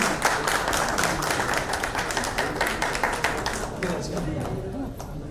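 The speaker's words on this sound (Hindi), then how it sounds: "पद्मा जी तालियों के साथ पद्मा जी का स्वागत कीजिए" A seated audience at a show-launch event breaks into dense, continuous applause to welcome a guest, loud and close, fading slightly toward the end.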